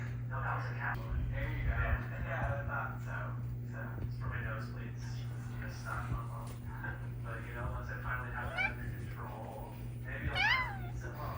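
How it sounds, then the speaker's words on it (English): An orange cat meows several times, drawn-out rising and falling cries scattered across a steady electrical hum, with soft background speech and rustling in the room. "My sister's cat is here, and he's just an orange cat to the max."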